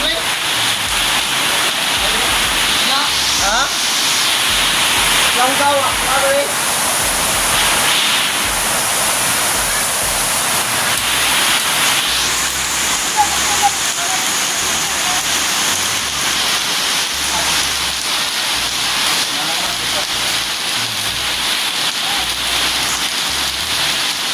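Heavy rain pouring down steadily, a dense loud hiss of drops on surfaces throughout, with faint voices now and then underneath.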